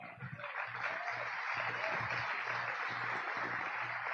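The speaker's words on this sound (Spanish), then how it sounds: "Dense un aplauso." Church congregation applauding steadily after a call from the pulpit, a dense, even patter of many hands sustained throughout at moderate distance, with low musical or voice tones faintly underneath.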